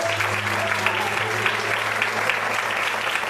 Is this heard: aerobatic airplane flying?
no